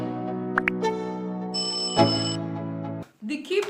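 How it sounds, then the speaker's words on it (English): A notification bell chime sounds, bright ringing tones layered and sustained for a few seconds before cutting off. "Turn on post notification bell for new videos to come."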